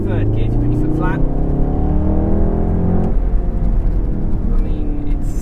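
A VW Golf R MK7 accelerates hard in third gear on a wet, rainy road, its engine note climbing steadily and loudly from inside the car.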